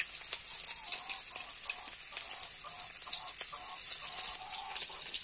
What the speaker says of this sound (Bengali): এবার কড়াইতে দিয়ে দেব ফোড়ন, জিরে, পেঁয়াজ কুচি,